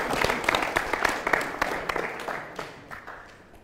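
Students in a Kenyan high school classroom clapping together; a brief burst of close, fairly loud applause with rapid overlapping claps that thins and fades over a few seconds.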